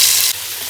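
Onion hitting hot oil in a frying pan in a traditional home kitchen, a loud bright sizzle that drops slightly partway through and keeps hissing.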